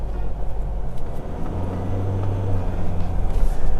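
A Ford Ranger engine, fitted with an EVO Extreme electric throttle controller, revs under heavy throttle, a loud close low drone that rises in pitch midway and holds, with no voices.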